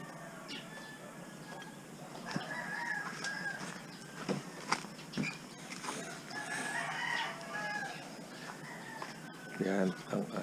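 Chickens cluck and a rooster crows amid busy, steady background noise, with calls scattered throughout.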